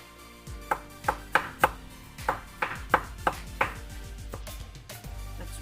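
A knife chops cucumber into small pieces on a board, about a dozen crisp, fairly even thuds in a quick run with a short pause midway, close and clear with no speech.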